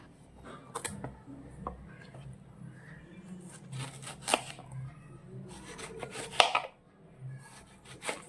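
A knife cutting pumpkin on a board, with irregular sharp chops and scraping strokes close by and fairly quiet pauses between cuts, with no speech.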